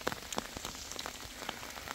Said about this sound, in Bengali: এই যে বৃষ্টি হচ্ছে প্রচুর